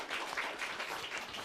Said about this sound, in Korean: 우리가 격려의 박수를 한번 쳐드리죠